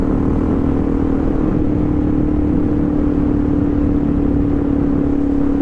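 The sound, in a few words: DRZ400 motorcycle engine riding off-road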